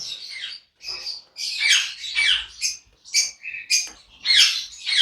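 Harsh, shrill squawks from large yellow rose-ringed (ringneck) parakeets in rapid bursts, several farm-bred birds calling close by with brief pauses between screeches.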